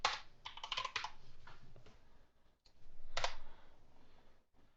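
Fast, close clicking of typing on a computer keyboard, short flurries of keystrokes with brief pauses between them, quiet and alone.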